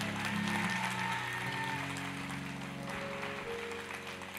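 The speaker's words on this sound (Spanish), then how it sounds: "Quiero que todos le den la bienvenida y denle un fuerte aplauso" Church congregation applauding to welcome a pastor, broad sustained clapping from a large gathering heard under a steady hum of sustained tones, fairly faint and continuous.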